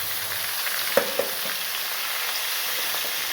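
Ginger and curry leaves fry in hot oil for a tomato cauliflower chutney, giving a close, steady sizzling hiss with a couple of sharp clinks from a utensil against the pan.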